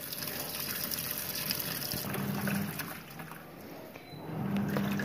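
An Orient automatic washing machine takes in water again, a steady close gushing and rushing flow with a low pump-like hum, continuous and fairly loud throughout, no talking.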